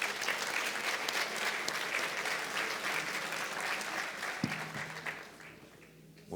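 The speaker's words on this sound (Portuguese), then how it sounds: "Uma salva de palmas, por gentileza." An audience at a municipal public-pension seminar claps steadily, a dense mid-level round of applause that tapers off near the end, with a brief thump and hum at the close.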